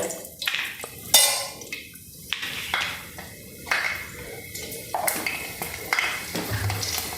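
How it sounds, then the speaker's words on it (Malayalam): Whole spices, cinnamon and mace, splutter in hot oil in a pan while a curry is cooked, making irregular sizzling crackles and pops with a few clinks, close and moderately loud, with no talking. "നമുക്ക് ഈ പട്ട കറയും പേരൊക്കെ എല്ലാം രണ്ട് മൂന്നെണ്ണമൊക്കെ വെച്ച് ഇത്തിരി ജാതിപത്രിയൊക്കെ കൂടി ഇട്ട് കൊടുക്കാം ഇതൊന്ന് പൊട്ടട്ടെ"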